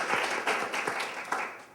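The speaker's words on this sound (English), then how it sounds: "I'll clap for my wife." Audience clapping at a school choice fair, a short burst of scattered applause that sounds moderately distant and tapers off within two seconds.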